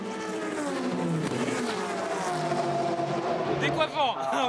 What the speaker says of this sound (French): Il est 15 heures précises, l'heure du départ pour les 56 voitures engagées